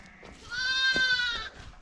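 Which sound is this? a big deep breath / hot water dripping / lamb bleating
lamb bleating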